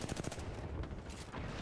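Rapid gunfire from a Golden R301 rifle in the Apex Legends video game, a dense burst of close, loud shots that runs on without a break and carries no talk.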